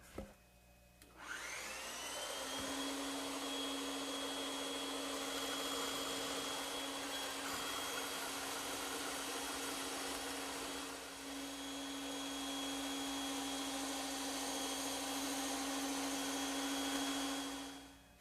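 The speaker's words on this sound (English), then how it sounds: "I'll cut it out on the bandsaw" A bandsaw cuts a curved wooden side piece, the motor spinning up then holding a loud steady whirring hum for a long stretch, with a brief dip midway as the blade works through the wood.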